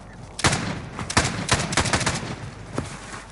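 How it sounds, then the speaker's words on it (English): Pistol gunshots in a War Zone video game firefight, several sharp loud cracks fired in an irregular rhythm, close and alone without talk. "A pistol."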